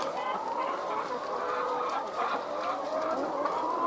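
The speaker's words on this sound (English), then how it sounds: "I think it's always good to just enjoy the noise from the chickens." Panuka egg-laying chickens cluck steadily in a busy chorus, many birds at once, close and continuous with no pauses.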